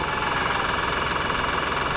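A lawn tractor engine runs steadily, driving a homemade compost trommel sifter built from salvaged factory parts, a loud continuous mechanical drone with rattling vibration and no pauses.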